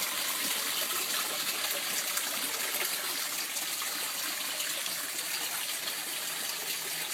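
Water pours steadily from an aquaponics overflow down into a large tank, a constant close rushing gush that stays even and unbroken throughout with no voices.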